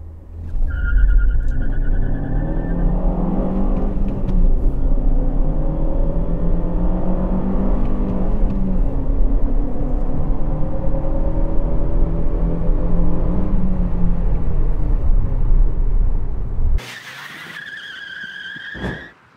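Lada Vesta with a sport intake accelerating hard on test runs, its engine droning loudly and rising through the gears, then cutting off suddenly near the end, followed by brief high-pitched tones.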